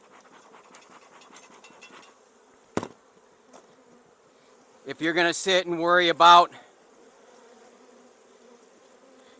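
Angry honey bees coming out of a dearth swarm around opened hive boxes in a production yard, a steady buzzing drone that runs beneath a man's speech, with a sharp knock partway through.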